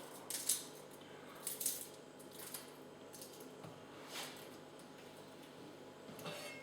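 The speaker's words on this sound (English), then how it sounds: "Just crack that garlic, cut off the rough end, roll the garlic out." Garlic being cracked and its rough end cut off on a kitchen board while oil heats in a pan, a few soft crunching snips and taps spaced out over a quiet sizzling background.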